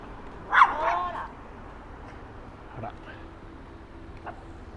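A dog barks a few times during a morning walk in Haruyoshi, Japan, one loud near yelp followed by fainter barks under ambient street noise, with a person talking.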